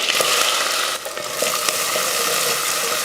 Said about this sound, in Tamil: எண்ணெய் காஞ்சதுமே கடுகுழுந்து கடுகு பொரிஞ்சதுமே கொஞ்சம் கருவேப்பில அடுத்து வெங்காயம்